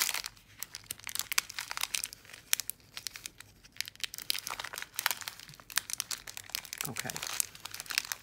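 A plastic bag and tape crinkle and tear sharply up close while a bead box is unpacked, with dense bursts of rustling and crackling and a person speaking briefly over it.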